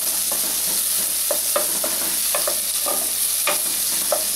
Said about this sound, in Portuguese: Agora eu vou dar uma murchadinha nessa cebola